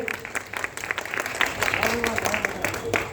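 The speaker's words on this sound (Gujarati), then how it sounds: "એમના માટે જોરદાર તાળી વગાડો સાહેબ માટે." An audience applauds at a library inauguration in Viramgam. The clapping is dense and sustained and grows fuller toward the end, while a voice speaks over it on a public address.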